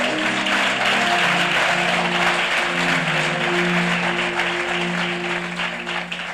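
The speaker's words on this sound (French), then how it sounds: "Tu peux acclamer." Church congregation applauding during a French-language service, a dense, steady wash of clapping that lasts throughout, with a faint sustained musical tone underneath.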